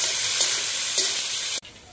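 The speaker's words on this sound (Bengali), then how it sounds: "পেঁয়াজটা লাল লাল করে ভেজে নেব।" Onions frying in a pan with bay leaf, dried chilli, cumin, cardamom and clove for egg curry, a loud close sizzle with a couple of stirring scrapes before the sound cuts off abruptly.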